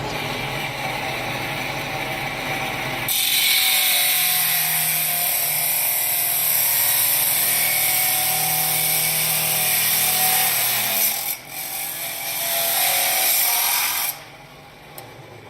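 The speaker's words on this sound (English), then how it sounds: "Brian will be cutting the ends for our lamb's tongues" A power saw cuts the ends of metal railing for lamb's tongue scrolls in a fabrication shop, a loud steady whine running for about eleven seconds after a quieter lead-in, then dropping off near the end.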